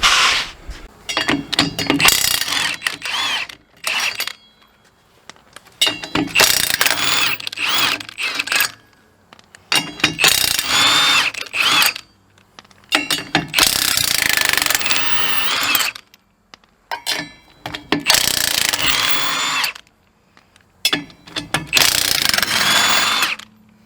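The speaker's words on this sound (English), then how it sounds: "Milwaukee M18 half-inch impact makes quick work of letting this." A Milwaukee M18 half-inch cordless impact wrench works lug nuts off an RV wheel, loud and close, in repeated rattling, hammering bursts of a few seconds each separated by short silences.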